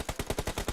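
Rapid burst of automatic gunfire in PUBG Mobile during an esports championship match, roughly eight sharp shots in quick even rhythm, loud and close with no talk over it.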